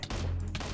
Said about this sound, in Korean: 어디서 총소리가 들리는데?